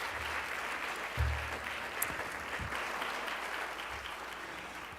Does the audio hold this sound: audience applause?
yes